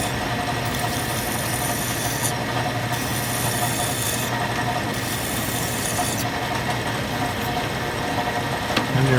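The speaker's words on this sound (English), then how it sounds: "I was surprised this 304 stainless machined as well as it did in here." An Index 645 vertical mill cuts 304 stainless steel, a steady, dense machine drone with a constant low hum and bright hiss running unbroken for the whole stretch, with no voices.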